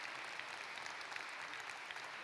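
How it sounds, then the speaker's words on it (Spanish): Steady applause for Fernando Bagüés fills a hall at the 2022 congress of Aragonese communities abroad. The clapping is even, continuous and fairly faint, heard from some distance. "un aplauso para Fernando Bagüés"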